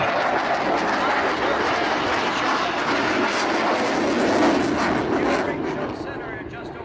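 F-18 fighter jet at the 2015 Stuart, Florida air show, a loud, steady broadband jet roar filling the whole stretch, fading slightly at the end, with a faint voice underneath.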